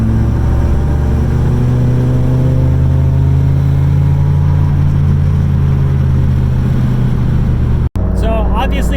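Mazda Miata on the road after a transmission swap, a loud steady engine and road drone running through most of the stretch, cut off abruptly near the end, where a voice begins talking.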